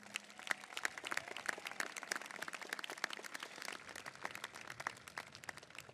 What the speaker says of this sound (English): let's give them all a round of applause for their support